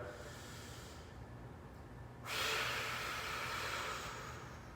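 A deep, forceful exhale during a home core workout, a breathy rush of air that starts abruptly partway through and holds steady to the end, close and fairly soft over quiet room hiss.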